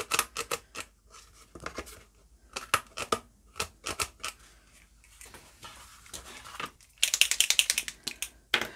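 Scissors snip through card to take off its corners, a series of sharp crisp cuts in irregular clusters up close, ending in a rapid flurry of snips.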